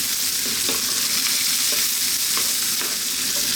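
A fish sauce mixture fries loudly in a pan over high heat, a dense continuous sizzle with regular stirring scrapes and clicks running through it, close and without talk.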